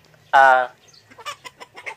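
A single loud, harmonic squawk from a large Talisay gamecock, followed by a string of softer, quick clucking notes nearby.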